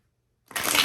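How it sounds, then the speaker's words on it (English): Tarot cards are riffled in a quick, close shuffle that starts abruptly after silence and runs as a bright crisp flutter to the end. "Ooh, one more shuffle, okay."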